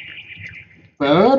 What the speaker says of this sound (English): bird underground.